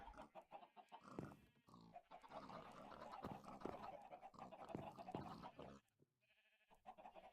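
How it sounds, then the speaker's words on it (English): Minecraft dogs alongside chickens and other farm animals in the game, a busy, layered mix of barks, clucks and panting that runs continuously before a short quieter gap near the end. "Oh, dogs trick or treat for Karma"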